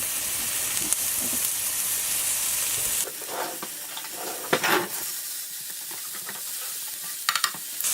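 Food sizzles steadily in a frying pan at salt-and-pepper tofu prep, a close constant hiss with occasional stirring scrapes and clicks, no talking.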